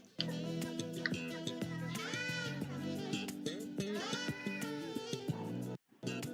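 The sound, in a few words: cat meowing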